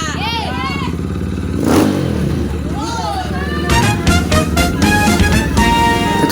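A Kawasaki Z200 motorcycle revs up nearby in loud bursts with a thump partway through, while children's excited voices and chatter run over the engine noise.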